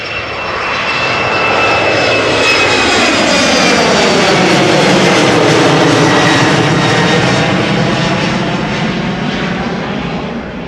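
A KLM Embraer 190 airliner on flight 1201 to Stavanger, at Amsterdam Schiphol, roars loudly and steadily with jet engine noise swelling to a peak and holding, with a rising whine above.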